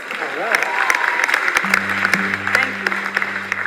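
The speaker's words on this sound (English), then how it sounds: "Give yourselves a round of applause." A festival audience applauds a trio's set at the Black Women's Roots Festival 2023: steady crowd clapping fills the clip, and a sustained low tone from the stage enters partway through.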